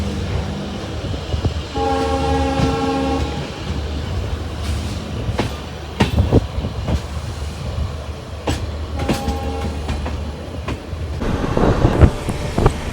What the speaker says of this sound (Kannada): ಟ್ರೈನ್ ಆಪೋಸಿಟಲ್ಲಿ ಇರೋದು ಹೊಸಪೇಟೆಯಿಂದ KSR ಬೆಂಗಳೂರಿಗೆ ಹೋಗೋ ಪ್ಯಾಸೆಂಜರ್ ಟ್ರೈನು